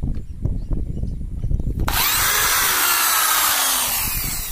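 After a brief low rumble, a power drill starts and bores holes with a loud, steady high-pitched whir, enlarging holes for a three-phase meter connection, continuing close up until the end.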